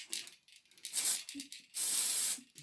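Short bursts of hissing from a spray can of glue over static grass on a model train layout embankment, several quick puffs followed by one longer, sustained spray, close and clear.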